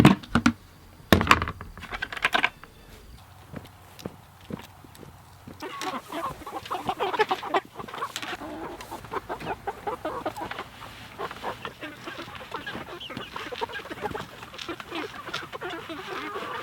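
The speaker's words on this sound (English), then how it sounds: "You can tell when these chickens are older now is when they're starting to get their teenager voice." A flock of meat chickens nearing slaughter age, their voices starting to change, clucks and squawks close by, a busy overlapping chatter that grows denser after a few sharp knocks early on.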